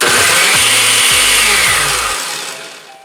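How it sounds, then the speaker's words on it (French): A food processor whirs loudly as it blends peeled banana toward a liquid purée, the motor's harsh high whine steady at first, then fading as the machine winds down after about two seconds. "Qu'on met ensuite dans le robot mixeur."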